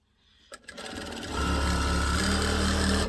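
An electric sewing machine starts up and then runs at a steady high-speed whir through fabric scraps, loud and close, without voices.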